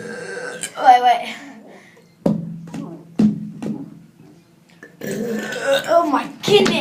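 A person burping after eating a chicken burger during a burping competition: a few short, loud, close belches in the middle, with people talking and laughing before and after.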